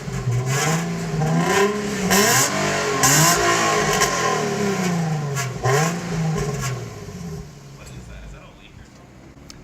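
An automatic Infiniti sport car engine revs repeatedly with the stock exhaust, rising and falling in loud, close bursts while people talk over it, and the idle settles toward the end.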